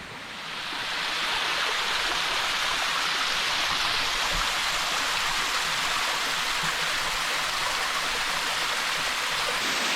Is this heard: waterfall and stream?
yes